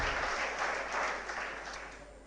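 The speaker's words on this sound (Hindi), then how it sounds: "एक बार जोरदार तालियां हमारे निर्मल सर के लिए।" Applause from an audience at a seminar on civil services exam success tips in Sikar, a steady dense patter of clapping sustained throughout and slowly fading toward the end.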